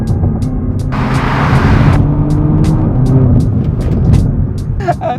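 A BMW Alpina B3 with a ZF gearbox accelerates hard in sport mode, its engine a loud, steady close-up drone that swells briefly midway and holds throughout, with faint ticking in the background.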